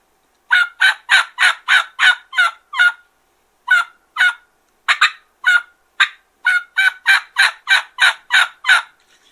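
A hand-held turkey call imitating a hen's yelp: series after series of sharp, evenly spaced notes, loud and close, with short pauses between runs and no talking.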